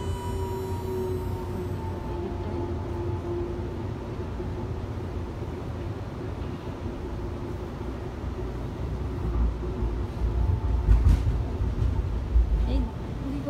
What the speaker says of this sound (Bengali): এখানকার মেট্রো স্টেশন, মেট্রো লাইন, কীভাবে ট্রেনগুলো যায়